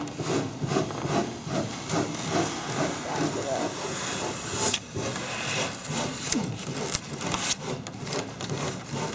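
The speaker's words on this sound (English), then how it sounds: "This is the medium grit sanding block." A medium grit sanding block rubs along a wood edge during set building, a continuous scratchy hiss in uneven back-and-forth strokes under people talking.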